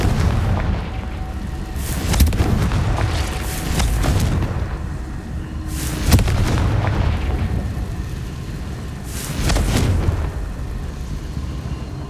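Confringo fire spells in Hogwarts Legacy set off loud, booming explosions that roll out in repeated heavy blasts over a dense rumbling game soundscape, with no speech.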